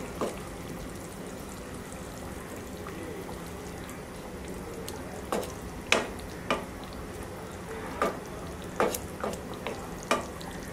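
A spoon stirs Bengali-style aar fish sour curry in a pan, with scattered scraping clinks over a soft steady simmer, fairly quiet and unaccompanied by speech.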